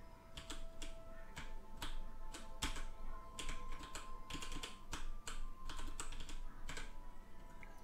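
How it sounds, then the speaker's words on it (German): Rapid, irregular clicks of typing on a mechanical computer keyboard, heard up close with no voices over the clatter. "Wie gut ist denn eigentlich meine Tastatur noch zu hören?"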